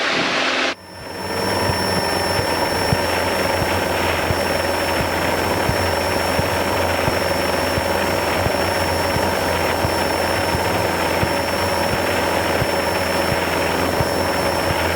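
A small Cessna Cardinal single-engine plane climbs out after takeoff, its engine a steady, loud droning roar that holds unchanged for the whole stretch after a brief dip at the start.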